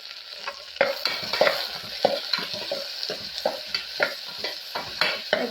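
Onions and chili fry in a pan, a bright close sizzle cut by a regular series of spatula scrapes as the mixture is stirred.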